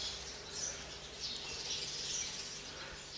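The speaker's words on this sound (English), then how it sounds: "Just me and the little birds." Small birds chirp faintly in the distance over a steady outdoor hiss, with thin high tweets scattered throughout.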